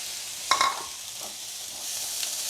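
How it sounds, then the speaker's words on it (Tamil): Beach sundal peas tumble into a hot pan of sautéed coconut, giving a brief clattering burst followed by a steady close sizzle. "அடுத்தது நான் சுண்டலை போடுறேன்."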